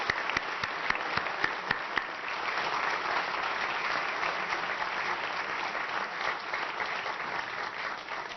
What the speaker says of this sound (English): please join me in leading a round of applause for the current Hall of Fame inductees